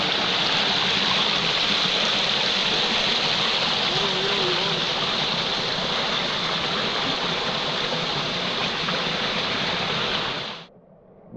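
A river stream at a swimming hole near Bayamón, Puerto Rico rushes in a steady, dense wash of flowing water. The flow is loud and continuous for about ten seconds, then cuts off abruptly.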